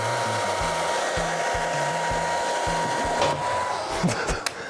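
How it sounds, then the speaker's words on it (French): A hair dryer blasting hot air to melt pen tips roars steadily and close, a broadband whoosh with a thin motor whine, while low rhythmic thumps and brief clatters sound beneath it. "Le sèche-cheveux est prêt"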